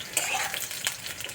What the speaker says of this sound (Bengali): এবার সবজিটা একটু নেড়ে চেড়ে নিয়ে গুঁড়ো মশলা দিয়ে দেব।